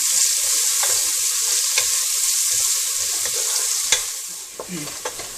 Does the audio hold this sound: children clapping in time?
no